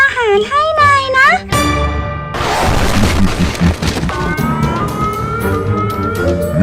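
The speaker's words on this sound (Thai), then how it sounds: "เสียงมันรถไซเรน" An emergency vehicle siren blares loudly after a voice, its wailing tones cutting in sharply amid crashing noise, close and piercing, with children talking over it.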